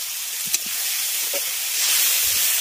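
A splash of rinse water hits spice paste frying for a chicken and potato curry, releasing a loud, unbroken sizzling hiss that swells slightly toward the end.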